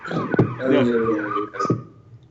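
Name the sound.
siren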